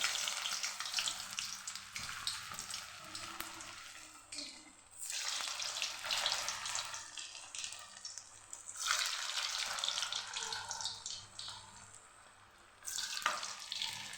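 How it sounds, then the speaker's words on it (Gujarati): Potato laccha pakodi fry in hot oil over a medium flame, giving a loud, continuous crackling sizzle that surges and dips in waves with a few brief quieter gaps. "પછી આ પકોડીને તેલમાં તળી લેવાની"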